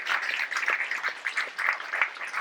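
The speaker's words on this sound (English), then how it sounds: "So, round of applause for Chris" A convention audience claps steadily for a guest, a dense patter of many hands sustained throughout, fairly close and without talk.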